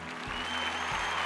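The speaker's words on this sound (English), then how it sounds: "Let's give him a round of applause." Audience applause at a school's third-trimester Imago Dei recognition ceremony, a steady wash of many hands clapping that holds at an even level across the short stretch, with a low hum underneath.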